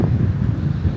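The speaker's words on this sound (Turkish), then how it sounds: "Çok fazla rüzgar var bu arada." Strong wind on an outdoor day in Perth, Australia, a dense low roar of gusts buffeting the microphone, steady and loud through a brief moment with no speech.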